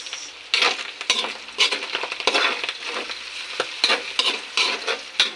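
Papaya and garlic sauté in a pan, with rhythmic bursts of stirring and scraping over a steady sizzle, close and fairly loud.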